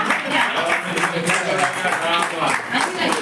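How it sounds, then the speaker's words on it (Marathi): An audience at a Guru Purnima gathering claps together in a dense, steady patter of hands, loud and close, with a voice speaking over it. "सर्वांनी टाळ्या वाजवा"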